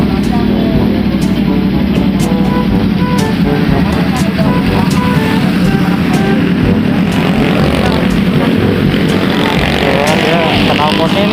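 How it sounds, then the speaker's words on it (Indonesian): A loud Yamaha R1 crossplane motorcycle engine with a new SC Project exhaust rumbles and revs up close, its aggressive exhaust note rising and falling over a steady idle. "Ini suara crossplane-nya jadi lebih keluar ya."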